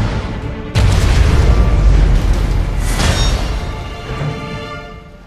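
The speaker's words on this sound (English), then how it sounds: "Nuclear weapon launched." A nuclear weapon detonates in the strategy game C&C: Rivals with one sudden, loud, deep boom. It rolls on as a long rumbling blast and slowly fades, with no voices over it.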